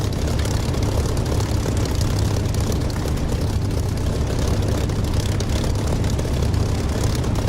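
An aircraft engine in the DCS flight simulator game drones loud and steady throughout, a dense, unbroken low roar.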